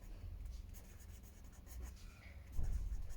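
A pen scratches across paper as a trigonometry problem from an 11th-class math exercise is written out, steady close rubbing strokes that grow louder near the end, with no speech.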